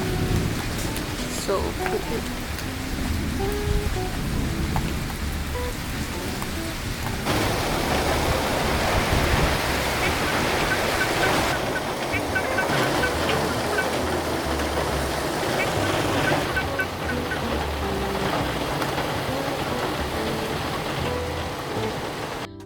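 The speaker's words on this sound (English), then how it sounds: "Sitting here in front of the house and enjoying the thunderstorm." Steady heavy rain pours down in front of a house during a thunderstorm, with low rumbles of thunder rolling beneath the hiss, and someone speaks softly once over the downpour.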